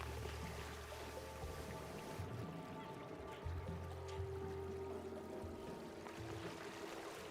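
Water drains out in Oxygen Not Included, pouring and trickling down with a steady, faint stream and soft drips, with no voices.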